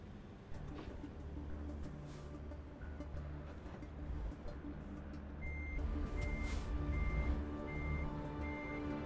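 A truck's reversing alarm beeps in a driving video game while the truck backs into a parking spot between another truck and a forklift, with evenly spaced electronic tones over a steady engine rumble that builds slightly louder.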